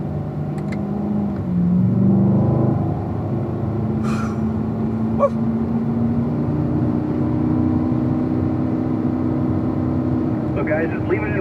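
A race car runs a lap around a track held in fourth gear, its engine droning steadily and loud throughout with a brief swell early on.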